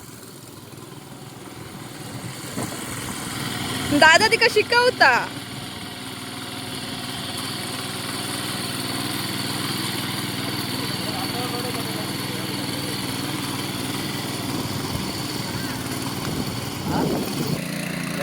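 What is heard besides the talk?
tractor engine running while being driven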